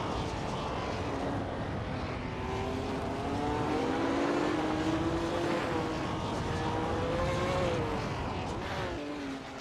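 A 1973 Porsche Spider and other race cars at the Algarve circuit in a racing video game, engines droning and rising in pitch together as a steady, loud wash of motor noise at the start.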